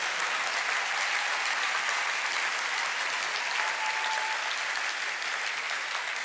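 Audience applause at a church testimony gathering, a dense, steady wash of clapping from many hands that stays loud and continuous throughout, with no talk over it.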